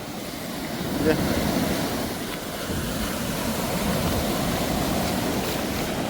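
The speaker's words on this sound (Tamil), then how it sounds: "எப்படி பார்த்தீங்களா கடல் அடிக்குது" Sea waves at Vadamarachchi surge and wash steadily onto the shore, a continuous broad roar with one louder swell near the start, mixed with wind noise.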